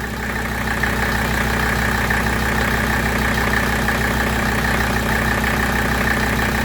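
A 1985 Mercedes 300TD diesel engine idles steadily up close, a constant, even drone with a fine mechanical clatter and no change in revs, running alone without voices.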